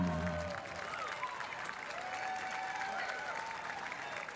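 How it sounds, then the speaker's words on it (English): Crowd applauding at the award ceremony of the FIH Hockey Women's Nations Cup in Chile, steady clapping throughout with a faint voice and tonal sounds underneath. "A big applause."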